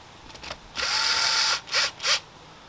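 A cordless drill drives screws into plastic sprinkler parts: one long steady whir of about 0.8 seconds, then two short bursts, close and fairly loud, with no talking.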